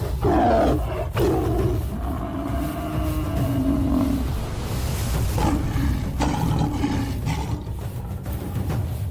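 A pride of lions roars in the wild, deep drawn-out growling roars close and loud, repeating over several seconds with brief pauses between them.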